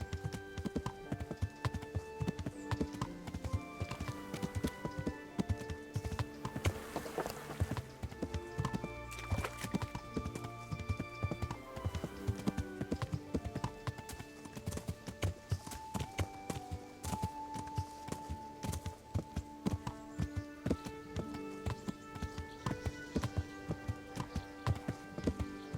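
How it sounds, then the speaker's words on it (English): Horse hooves clip-clop at a steady walking rhythm through the whole stretch in Kingdom Come: Deliverance, with a game music bed playing quietly underneath. "horse."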